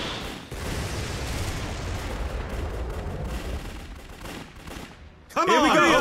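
Continuous dense gunfire crackles in the WWII strategy game Codename: Panzers – Phase Two, a rattling battle din that holds steady before a louder burst near the end.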